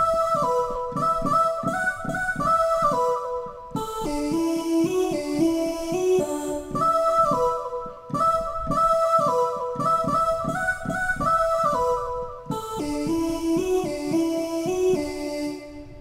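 A keyboard plays a song, its melody decorated with quick grace notes over steady chords, with rhythmic, syncopated phrasing that carries on without pause throughout.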